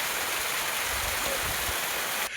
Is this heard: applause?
no